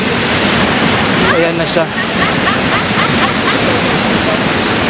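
Loud, constant roar of a waterfall's rushing water at Ourika, Morocco fills the scene, with a voice briefly speaking over it.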